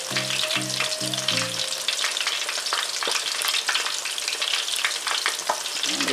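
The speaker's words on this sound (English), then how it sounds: "I'll be frying them crispy." Food sizzles and crackles steadily in a hot pan, a dense constant frying hiss with a few brief tones early on.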